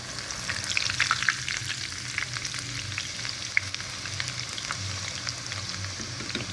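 Moong dal fries in very hot ghee with a dense, continuous crackling sizzle and bubbling, punctuated by light stirring clicks, close and steady without speech.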